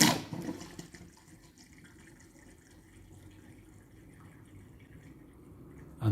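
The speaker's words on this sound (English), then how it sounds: "listen to the sound that the water makes as it goes away" Water draining from a church font after its tiny plug is pulled, soft gurgling and trickling that stays quiet and steady, with louder bursts at the start and end.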